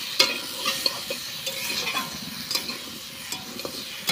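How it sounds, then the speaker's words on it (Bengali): Potatoes frying in oil in a pan, a steady crackling sizzle with scattered stirring scrapes and small pops, close and moderately loud, with no talking. "আলুটা প্রায় ভাজা হয়ে গেল"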